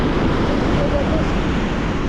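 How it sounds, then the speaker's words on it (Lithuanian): Strong wind sweeps across an island coast ahead of a hurricane, a loud, continuous roar with heavy buffeting on the microphone and surf-like rushing throughout, no pauses. "Iš ten ateina vėjas jo"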